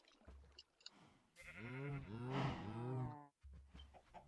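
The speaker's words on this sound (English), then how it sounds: "I hear a cow dying somewhere." A cow in the Minecraft video game gives a drawn-out, wavering, low moo-like cry in the middle of the clip, fairly prominent against quieter game sounds.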